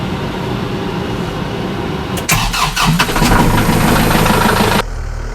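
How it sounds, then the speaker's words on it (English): A tractor engine cranks over and fires, with a burst of starter clatter and combustion pops that settles into a steady close idle rumble. "we'll get the tractor fired up here"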